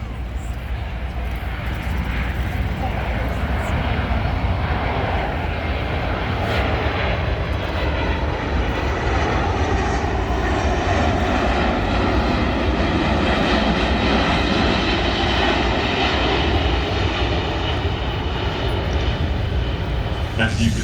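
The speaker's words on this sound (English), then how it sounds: "the C-17 is extremely maneuverable at both high and low speeds" A Boeing C-17 Globemaster III military transport flies at an airshow, its jet engines producing a continuous loud, rumbling roar that holds steady for the whole stretch.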